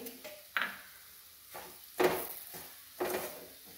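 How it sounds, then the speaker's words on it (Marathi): Semolina roasting in melted ghee in a pan for rava halva, with soft, quiet stirring scrapes and gentle sizzle in three or four separate bursts, close by and alone. "यामध्ये आपण हे रवा टाकून याला छान आपण भाजून घ्यायचं आहे"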